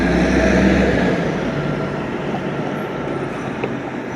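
Rail traffic on tracks carrying Amtrak and freight trains near an airport, heard as a steady broadband rumble with a low heavy onset that eases into a continuous distant roll, no talk.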